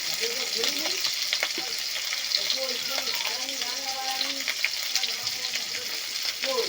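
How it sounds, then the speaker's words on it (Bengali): Prawns fry in hot oil in a kitchen for an echor chingri (jackfruit and prawn) dish, a continuous loud sizzle with stirring noises close up throughout. "তেল গরম হয়ে গেছে, চিংড়িগুলো ভেজে নেব, দিয়ে দিই।"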